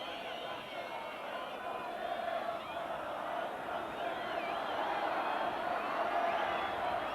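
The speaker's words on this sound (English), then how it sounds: "Just listen to that crowd." Large football crowd at a Middlesbrough match in the 1989/90 Zenith Data Systems Cup, a steady roaring mass of voices and cheering that swells slightly toward the end, filling the whole stretch with dense sound.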